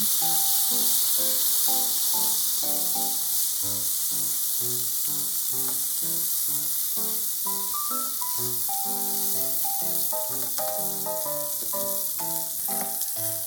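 A hamburger patty for teriyaki burgers sizzles as it is pressed down in a hot pan, a steady bright hiss running throughout beneath a light melodic background tune.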